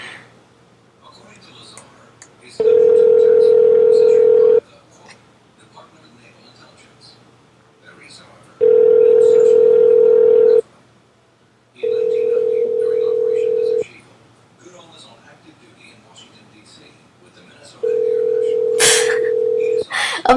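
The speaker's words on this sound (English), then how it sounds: "Obnoxious ringing." An incoming call rings on a podcast line in loud, repeated electronic bursts, four long tones separated by pauses, with faint voices murmuring in the gaps between rings.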